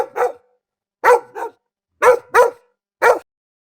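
A dog barks in five short, sharp yaps in irregular pairs, close and clear against silence, with no other sound between them.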